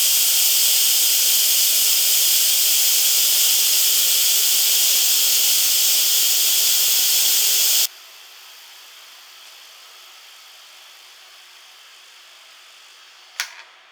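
Pressure cooker cooking cabbage vents a loud, steady hiss of steam for about eight seconds before it cuts off sharply, leaving faint background noise and a brief click near the end.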